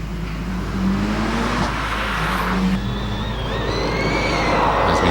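A Golf R hillclimb car at the Legend of the Lakes Hillclimb accelerates up the course, its engine note climbing through the gears as it passes, moderately loud and steady with no talking.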